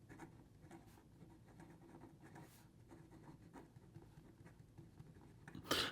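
A Visconti Viscontina fountain pen is written in reverse on paper, giving a soft, slightly scratchy scraping with light rhythmic strokes that stays quiet and close throughout.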